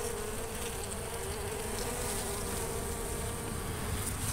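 Honey bees swarm around an opened hive during a colony removal in winter, a dense, continuous close-up buzz of many insects with no pauses and no speech.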